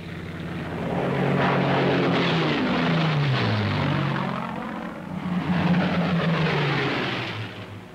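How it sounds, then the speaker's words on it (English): A WWII P-51 Mustang fighter drones overhead, a propeller engine whose pitch falls as it passes and then rises again as another pass follows, loud and continuous with no voices. "the group of escorting Mustangs watches every corner of the sky"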